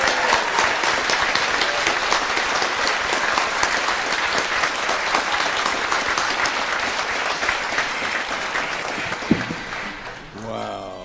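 Sustained applause from an audience at the 2011 Coots Jamboree for performer Stan Harper, a steady dense clatter of many hands that fades near the end as talk begins.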